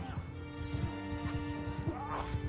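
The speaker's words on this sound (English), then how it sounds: "We'll tell our cavalry and our horse archers to charge in." Cavalry and horse archers charging in the Mount and Blade 2 Bannerlord video game, a steady rumble of many hooves with faint neighing under a voice.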